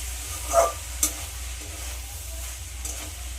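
Drained pasta stirred through softened vegetables in a pan over low gas, a few soft scraping strokes over a steady faint sizzle, close by with no voices.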